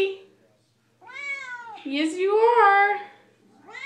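A Siamese cat gives long, drawn-out, sing-song meows at close range, one stretched yowl rising and falling in pitch before trailing off, with a person's voice speaking briefly alongside.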